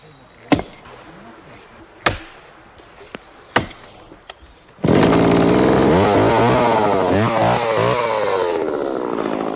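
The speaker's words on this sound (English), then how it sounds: "Today, the chainsaw is used as its tip cuts down at an angle into the roots." A few sharp chopping knocks from a mattock and axe ring out, then a chainsaw roars to life and cuts loudly and steadily into tree roots, its engine pitch wavering as it bites in.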